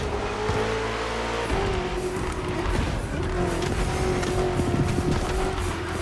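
BMW M CS car driving in the racing video game The Crew Motorfest: a steady, loud engine drone with a constant tone, accompanied by road and tire noise throughout.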